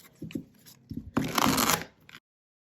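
A tarot card deck being shuffled at close range: a few soft taps and handling clicks, then a short dense riffling burst lasting about half a second before the sound stops.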